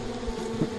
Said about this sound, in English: These goddamn bees.